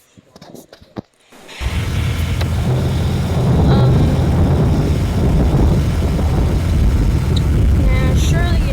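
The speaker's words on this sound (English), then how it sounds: "surely it's the wind. Because the wind is strong today." Strong wind blows across the microphone outdoors, starting after a second of faint sounds and then roaring as continuous low buffeting rumble, loud and unbroken to the end.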